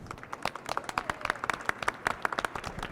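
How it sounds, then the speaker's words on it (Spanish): Audience applause after a book launch presentation, a small crowd clapping in quick, uneven bursts with distinct individual hand claps, fairly close and moderately loud, no talking over it. "y un aplauso para él, por favor."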